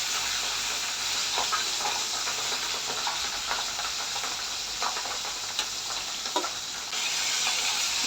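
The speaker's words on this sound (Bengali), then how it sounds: "মাছগুলো ভালো করে একটু ভেজে নিচ্ছি।" Pabda fish fry in hot oil, a steady loud sizzle and hiss filling the air throughout, with faint scattered pops and clinks close by.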